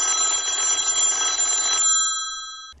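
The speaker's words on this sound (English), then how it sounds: "Your cell phone's ringing." A cell phone rings with a loud, continuous electronic trill that stops abruptly, leaving a brief fading tone and then silence.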